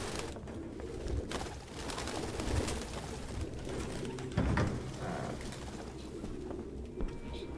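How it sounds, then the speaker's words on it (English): Pigeons coo softly in a Detroit: Become Human game scene, their low calls repeating over a dense, steady city ambience. "Ooh, look at all the pigeons."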